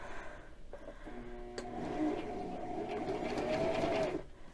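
A home sewing machine runs in a steady mechanical whir, briefly starting and stopping before settling into a continuous hum as it backstitches, close and moderately loud with no talk.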